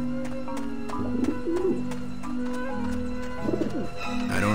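Pigeons cooing in the video game Grim Fandango Remastered: a few soft, throaty coo phrases in short bursts over a steady tonal in-game ambience, fairly close and clear.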